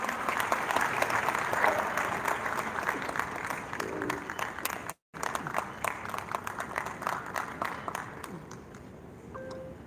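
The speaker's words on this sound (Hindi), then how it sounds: "तालियां।" A hall audience at a university Lohri and Makar Sankranti gathering claps steadily for a welcome, a dense continuous applause that breaks off for an instant midway, then resumes and thins toward the end.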